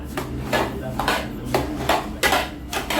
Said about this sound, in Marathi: हे पोहे आणि गुळ फक्त मिक्स करायचा